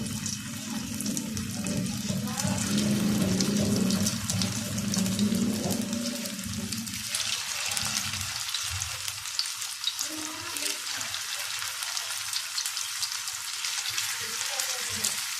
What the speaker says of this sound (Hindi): ऑयल हमारा गर्म हो चुका है। अब इसमें डालेंगे फिंगर जो हमने तैयार किए हैं।